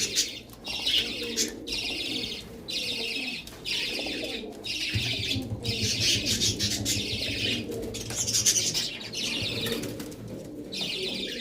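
Oman Teddy pigeons coo and rustle nearby, with soft wing flaps and a low steady cooing drone under continuous bright chirping from other birds in the background.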